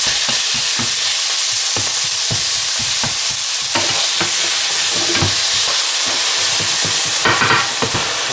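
Lasagna ingredients sizzle and fry in a pan on a stove plate turned down to just above medium, a loud constant hiss broken by soft scrapes and clinks of stirring, with no voices.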